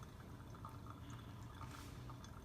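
Water is poured slowly in a tight center stream over coffee grounds for pour-over brewing, giving a soft continuous trickle and gentle dripping, faint and close.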